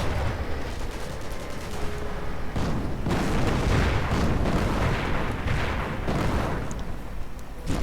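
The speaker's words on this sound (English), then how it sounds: "who called in that mortar barrage" A mortar barrage in a war video game, with dense overlapping booms and blasts rumbling continuously at steady loudness and sharper impacts scattered throughout.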